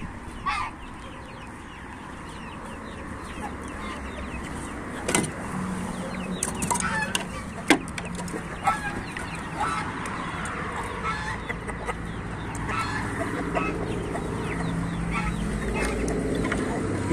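Chickens cluck in a backyard poultry enclosure shared with geese, with intermittent near calls over a steady outdoor background.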